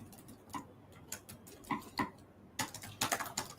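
Light, irregular keystrokes on a computer keyboard while writing Python code, with quick bursts of taps and a faster flurry near the end, close but soft.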